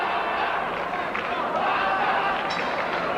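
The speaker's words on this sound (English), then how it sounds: "Listen to that crowd." Boxing match crowd roaring and cheering loudly in a dense, continuous wash of voices, with shouts rising out of the din and a commentator talking over it.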